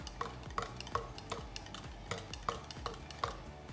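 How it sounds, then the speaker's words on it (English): A whisk scrapes and clinks against a bowl in quick, regular strokes, mixing breakfast casserole ingredients of sausage, tater tots and gravy, fairly quiet and with no talking. "we'll just get a whisk and whisk this up"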